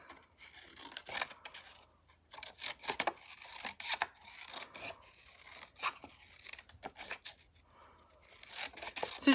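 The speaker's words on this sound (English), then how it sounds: "And then I'm gonna get my paper cutting scissors." Paper-cutting scissors fussy-cutting stamped cardstock pieces up close, with irregular bursts of snipping and rasping paper rubs separated by short quiet gaps, no talking.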